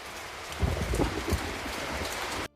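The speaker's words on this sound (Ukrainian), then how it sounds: "То дощ." Steady broadband hiss of autumn rain falling on surfaces, with a few heavier patters and thumps, continuous and fairly close before cutting off abruptly.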